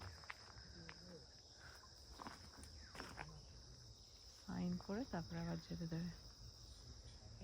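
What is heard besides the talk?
crickets chirping in the forest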